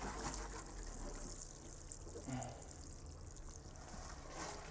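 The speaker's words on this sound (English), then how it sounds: "And I'm also gonna water underneath each one of these." A watering can fitted with a rose sprinkles water onto plants in a greenhouse, a steady soft patter and trickle running throughout at close range.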